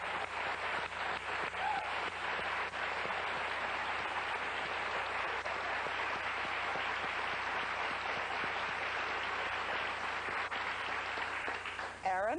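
Sustained applause from a large television talk-show studio audience, steady and full for several seconds before tapering off as a voice begins at the end.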